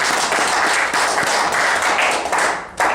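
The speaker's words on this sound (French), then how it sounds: "Voilà, applaudissez." Wedding guests clap together in a loud, even burst of applause that fills the room, dipping briefly near the end before surging again.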